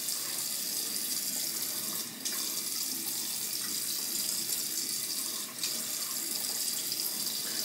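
Water runs steadily from a tap onto a wet shaving brush at a sink, a continuous broad hiss with two brief dips where the flow is interrupted.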